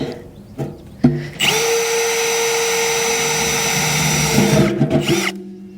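A power drill drilling drainage holes in a plant pot whines steadily at close range for several seconds, starting and stopping with brief bursts, with no talking.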